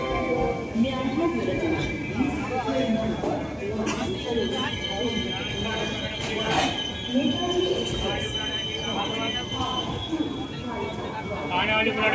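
A Netaji Express passenger train rolls into platform 3 at Mughalsarai (Deen Dayal Upadhyaya) station, with rumbling wheels, squeals and clanks under busy station chatter and voices nearby.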